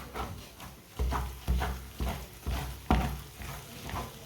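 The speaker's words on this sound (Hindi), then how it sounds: "इसी तरह इसे चम्मच चलाते हुए पकाना, चम्मच छोड़ना नहीं है" Makhandi halwa stirred with a spoon in a cooking pan, giving a series of rhythmic scraping strokes about every half second, each with a low thud and soft sizzle, close and steady without talk.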